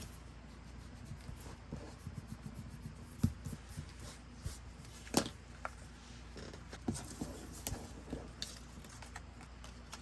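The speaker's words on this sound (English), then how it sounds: "Erase any pencil marks." Soft scratchy rubbing of an eraser removing pencil marks on paper, faint and close, with irregular brushing strokes and a few light taps.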